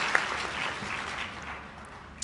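Applause at the San Diego City College 2019 commencement for Andrew, a fairly faint, steady spread of clapping that thins toward the end, with a sharp clap or two standing out.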